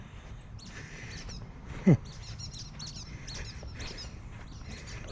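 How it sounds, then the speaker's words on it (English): Small birds chirp in short, high, squeaky bursts scattered across the clip in Carolina Beach State Park, with one louder close call partway through over a low outdoor rumble. "Some squeaky little birds."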